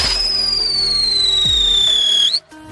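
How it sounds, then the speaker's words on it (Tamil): A spinning firecracker being lit and tested at night lets out a loud, steady whistling whine that slowly falls in pitch for about two seconds, rises briefly, then cuts off abruptly. "இது வந்து பார்த்தீங்கன்னா ஃபுல்லாக சுற்றிட்டு சவுண்டு கேட்குன்னு சொல்லியிருந்தாங்க"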